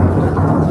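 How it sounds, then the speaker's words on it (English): Real thunder rumbles in a steady, low, continuous roll with no voices over it, during an in-studio tabletop Dungeons & Dragons game session. "That's real thunder, folks."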